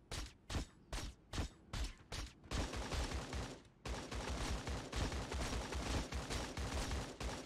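Fortnite gunshots ring out close and loud, first as several separate single shots, then as a dense, continuous volley of rapid fire.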